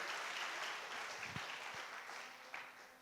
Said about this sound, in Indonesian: Kita tepuk tangan buat Tuhan Yesus kita yang dahsyat.